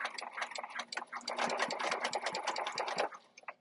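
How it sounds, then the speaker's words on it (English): A domestic sewing machine runs close and steady with a rapid ticking stitch rhythm while backstitching near a fabric corner, slowing briefly and then stopping after a few seconds. "I'm going to stop 1/4 inch away and backstitch."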